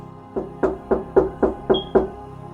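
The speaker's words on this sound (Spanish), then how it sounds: "alguien tocó la puerta" Knocking on a wooden door: seven loud, evenly spaced raps land about a third of a second apart, close by and clear, with no voices over them.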